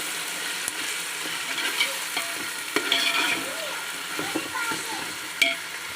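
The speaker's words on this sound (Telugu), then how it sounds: "బాగా ఫ్రై అవ్వాలండి నూనె పైకి తేలాలండి" Masala frying in oil in a pan for bagara rice, a steady close sizzle with occasional stirring scrapes and small pops throughout.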